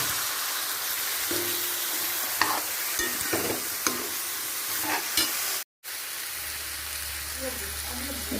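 Vegetables added to dal and chickpeas sizzle and fry in a pan, with a steady hiss, spoon scrapes and stirring clatter close by, briefly cut out then resuming.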